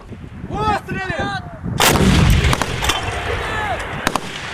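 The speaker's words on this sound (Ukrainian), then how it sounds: "100-мм протитанковими гарматами рапіра" A single heavy 100 mm Rapira anti-tank gun fires with a loud, booming blast that rolls and echoes outward, following a few seconds of outdoor background noise.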